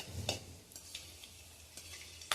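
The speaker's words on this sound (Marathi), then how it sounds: "अगदी थोडीशी काळपट झाक त्याला येईपर्यंत आपण मिरच्या तळून घ्यायच्या" Green chilies frying in oil for a chivda snack, a faint low sizzle with a few soft stirring scrapes and spoon clicks, close by and with no talking.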